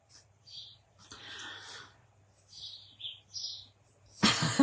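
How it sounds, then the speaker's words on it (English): Garden birds chirp in short bright bursts and twitters, fairly faint over a low steady hum, with a louder broadband rustle or clatter at the end. "Yeah, the birds are always lovely."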